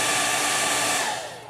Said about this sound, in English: Hair dryer is your friend for a lot of stuff.